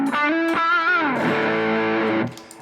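An electric guitar played through a Line 6 HX Stomp on its distortion snapshot with extra gain rings out as a few heavily distorted notes, one bent, then sustains before cutting off near the end.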